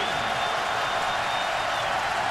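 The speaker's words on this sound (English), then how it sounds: "Listen to this crowd." A large stadium crowd roars at a South Carolina vs. Florida college football game on third down, a dense, steady wall of cheering and noise, loud and sustained throughout with no clear talk on top.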